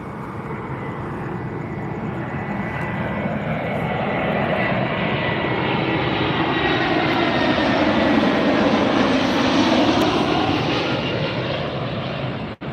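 An airliner arriving at Las Vegas airport roars overhead, its engine noise swelling loud and close, then sustaining before fading slightly at the end.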